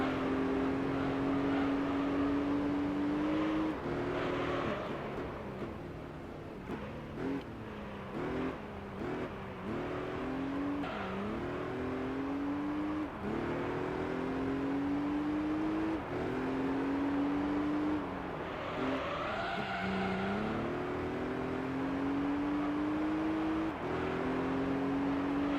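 Race car engine in Gran Turismo 3, held at a high droning pitch that climbs through the gears, drops with each shift and rises again, loud and continuous with no talk over it.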